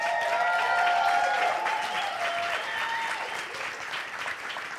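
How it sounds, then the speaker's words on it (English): Studio audience at a startup demo day breaks into steady applause, loud at first and gradually thinning toward the end. "Round of applause,"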